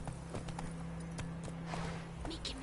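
Horse hooves clip-clop at a steady walking rhythm during riding in The Witcher 3, close and fairly soft, with a low steady hum beneath and a voice speaking over the hoofbeats.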